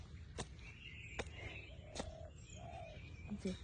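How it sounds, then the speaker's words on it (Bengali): Several birds calling in a quiet hill forest: sharp chirps and soft low coos at a distance over faint ambient background. "বিভিন্ন ধরনের পাখির শব্দ"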